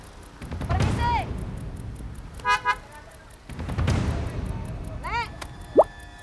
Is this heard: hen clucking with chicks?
no